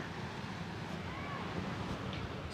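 Sea waves wash against the shore in a steady, broad roar with gusts of wind buffeting the microphone, continuous and fairly close throughout.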